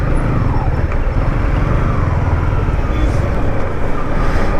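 Busy road traffic surrounds a Yamaha R15 M motorcycle on a ride out of Chennai toward Kanjanagiri hills, a dense, steady roar of engines and wind rushing close by.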